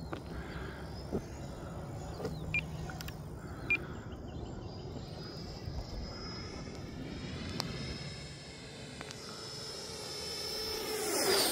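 A Freewing Zeus 90mm electric ducted-fan RC jet on a 6s battery flies at half throttle, giving a steady whooshing whine that holds, dips and swells louder as it nears at the end.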